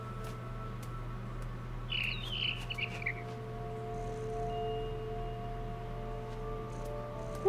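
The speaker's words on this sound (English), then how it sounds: "Then I heard chirping outside my window. It was was a barn swallow going back to her nest." A barn swallow chirps faintly outside a window, a short twittering burst over a steady low hum, alone and without talk.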